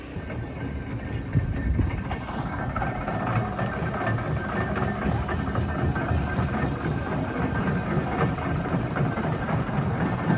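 A 1922 Roby & Co winding steam engine, built for Limby Colliery, runs steadily with a continuous heavy low rumble and mechanical churn, loud and unbroken throughout.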